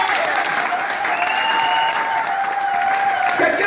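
Church congregation applauding steadily throughout, a dense, loud wash of clapping with a few sustained tones ringing beneath it.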